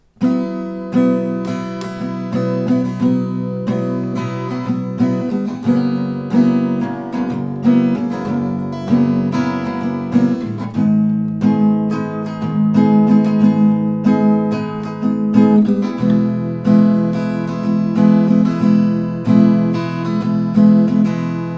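Acoustic guitar strums chords in a steady rhythm, ringing full and close, with changes every few seconds and no voices.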